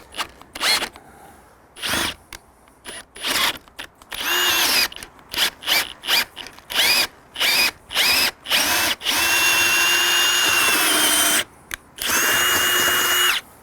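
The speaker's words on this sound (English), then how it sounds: "we're going to set this on the center hole, drill ourselves a hole" A power drill with a spade bit bores a hole into a wooden door for a keypad lock install, running in short bursts at first, then longer continuous loud whines, close up.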